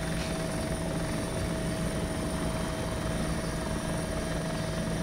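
Helicopter in flight during a large airsoft game at Tushino, a steady loud rotor and engine drone with a constant hum and no talk.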